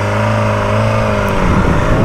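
A 2022 BMW S1000R motorcycle launches hard, its engine revving with a rising, rasping exhaust note that climbs in pitch, loud and close with no talk over it.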